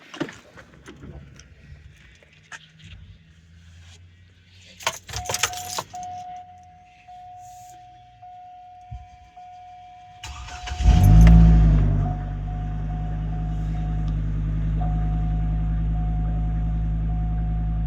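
Keys jingle and a few clicks, then a Chevy Colorado or Hummer H3 pickup truck engine cranks and catches with a loud rev before settling into a steady, rumbling idle after a cracked exhaust header repair.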